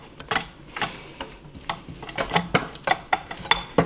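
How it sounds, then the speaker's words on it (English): Cream cheese frosting being mixed in a bowl, giving a steady run of close, light clinks and scraping knocks against the bowl with no one speaking. "keep mixing until your frosting is nice and smooth"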